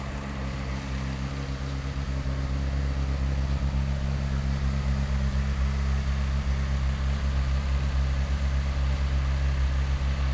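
A 2003–2006 Honda CBR 600RR sportbike engine idling nearby, a steady, even low rumble with a constant hum that holds unchanged throughout, with no voices.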